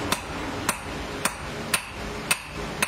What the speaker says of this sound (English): That loop is heated to be hammered into shape and eventually will be flattened and hammered over a rounded section.